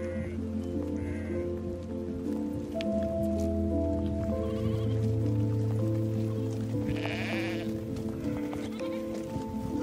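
Cashmere goats on a cold steppe farm near Karakorum bleating repeatedly, several overlapping loud calls from a herd close by over steady background noise.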